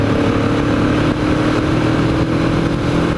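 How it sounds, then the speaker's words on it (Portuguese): A Yamaha MT-03 motorcycle engine roars loud and close as the bike accelerates, with a continuous dense exhaust note and rising revs under heavy wind rush, heard from the rider's position with no talking. "Eu gosto de ter uma motinha pra poder acelerar de vez em quando."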